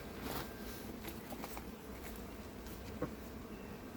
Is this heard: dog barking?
no